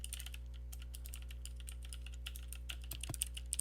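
Steady, fast typing on a computer keyboard, close by, with quick key clicks over a low constant hum.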